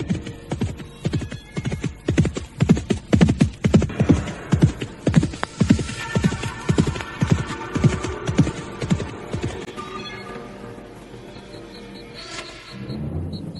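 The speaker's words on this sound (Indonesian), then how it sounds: "Ada orang berkuda yang sedemikian kencangnya." A horse gallops hard in a steady, rapid clip-clop of hoofbeats that swells in loudness as it draws nearer, then the hooves fade into a low rumble near the end.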